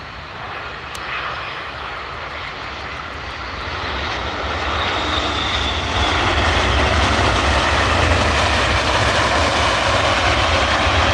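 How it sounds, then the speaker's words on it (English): A WestJet Boeing 787-9 jet at Edinburgh Airport, a loud, steady engine roar that swells partway through and stays strong to the end, with no voices. "There we go, there's the WestJet 787-9."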